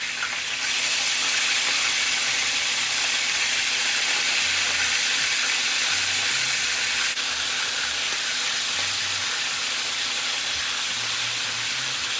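Oxtails browning in a hot pan give a continuous, even sizzle with a steamy hiss, loud and close, running without pause and without talk.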